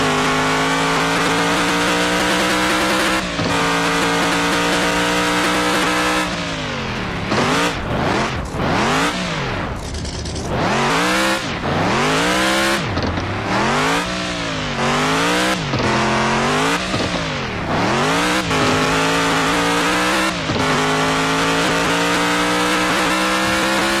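A car engine in the Offroad Outlaws video game revs on a dirt track, rising and falling in repeated loud sweeps after a steady opening drone, with no talk.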